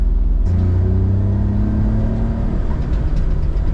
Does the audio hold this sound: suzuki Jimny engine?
yes